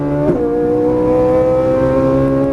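A Ferrari 458 Italia on a race track, its engine loud and steady at high revs, with a brief jolt of an upshift early on before the tone holds and climbs again.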